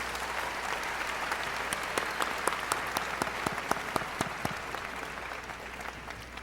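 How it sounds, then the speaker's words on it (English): A crowd applauding at a 2011 high school graduation ceremony, a steady wash of many hands clapping with a few sharper individual claps standing out, sustained and moderately distant. "How about a round of applause for this group?"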